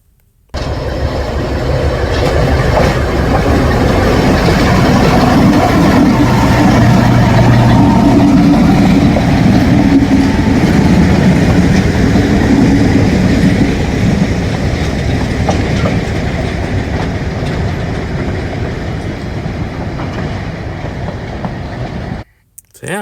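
A freight train led by locomotives in black and yellow stripes rolls past, hauling cargo on a flatbed car, with a steady loud rumble and wheel clatter sustained for about twenty seconds before cutting off.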